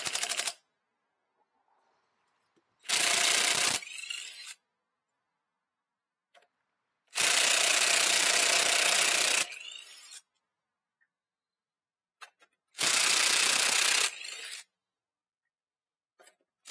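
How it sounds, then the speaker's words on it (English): An impact wrench tightens JL wheels onto a JK Jeep Wrangler in three loud, buzzing rattling bursts of about two seconds each, with near silence between them. "Impact wrench is a go."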